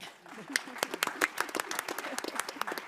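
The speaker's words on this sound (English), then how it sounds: "Let's clap if we agree with that statement." Forum audience breaks into clapping at a climate-themed panel, a scattered burst of individual claps that builds into steady applause over a murmur of voices.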